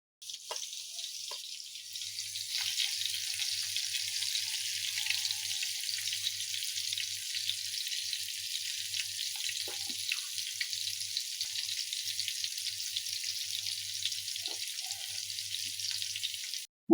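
Bombay duck (bombil) fish shallow-frying in a pan, a constant, even hiss of hot oil sizzling for the whole stretch, close and alone without talk.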